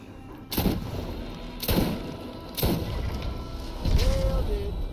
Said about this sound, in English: I love this shotgun, by the way.